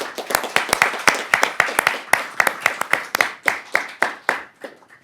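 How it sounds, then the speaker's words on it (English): Applause for judges and moderator at a debate semifinal: a small audience's sharp, distinct claps, close and fairly loud, in an irregular rhythm that thins out toward the end. "Ladies and gentlemen, a round of applause for our judges and moderator."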